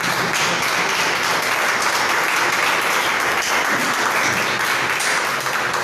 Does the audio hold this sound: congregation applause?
yes